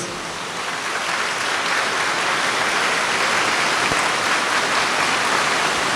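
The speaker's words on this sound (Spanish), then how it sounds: "el Padre Luis Eduardo Toro, a quien nosotros esta noche lo motivamos con aplausos fuertes" Loud, dense applause from a church congregation welcoming a visiting priest from Venezuela, a steady wash of clapping that swells in the first half-second and then holds evenly to the end.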